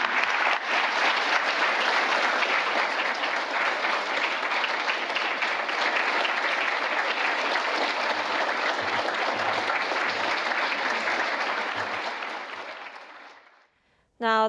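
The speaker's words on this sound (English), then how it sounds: "with your very enthusiastic applause, say thank you to President" A large audience gives sustained, enthusiastic applause after President Lee Jae-myung's foreign policy address, a dense roar of clapping that holds for about twelve seconds, then fades out before a brief voice cuts in at the end.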